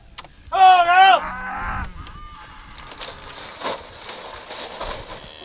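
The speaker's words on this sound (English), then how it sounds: "So go feed some cows, feed the calves, get everybody taken care of." Cattle low at feeding time: one loud, close moo near the start, then fainter calls from the herd under ongoing farmyard noise.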